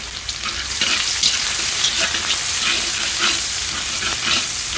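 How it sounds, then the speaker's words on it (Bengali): Chopped onions fry loudly in a pan with garam masala, cardamom and cinnamon, a constant close sizzle with repeated scraping stirs. "পেঁয়াজ আর গরম মশলাটা ভালো করে ভেজে নেওয়া হবে।"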